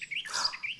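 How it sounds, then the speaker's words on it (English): Birds chirp in a quick, bright burst of a few high tweets, clear and fairly close, heard alone. "You're right, they're called birds."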